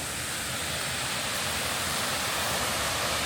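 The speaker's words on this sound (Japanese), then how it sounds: "滝のようなものはありましたけど" A tiered waterfall in a gorge in rural Tottori, Japan, roaring as a loud, continuous wash of falling water that fills the whole scene without pause or voices.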